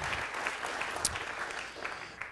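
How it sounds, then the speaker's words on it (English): An audience at a Harvard Institute of Politics forum claps steadily in a sustained round of applause filling the hall. "how about a round of applause for our newcomers"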